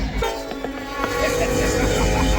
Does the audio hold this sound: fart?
no